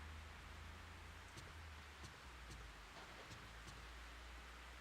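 Steady, faint rain hiss from the Fatal Frame III video game, an even wash of falling water with a few soft drips and taps scattered through it, continuous and without voices.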